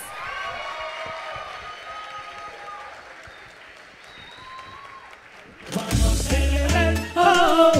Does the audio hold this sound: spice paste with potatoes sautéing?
no